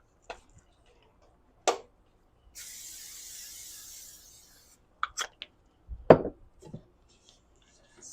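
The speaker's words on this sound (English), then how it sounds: "Spray this" Cooking spray hisses onto a baking pan for garlic knots in one steady burst of about two seconds, close and quiet, surrounded by faint kitchen clicks and taps.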